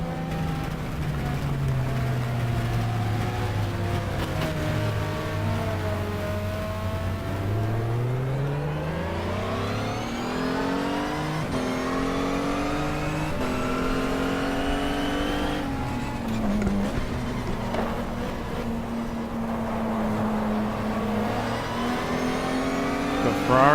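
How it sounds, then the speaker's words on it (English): Ferrari race car engine in the racing game GTR2 on the Spa circuit, revving continuously with rising and falling pitch through gear changes, loud and steady throughout with no talk. "Got Ferrari behind us."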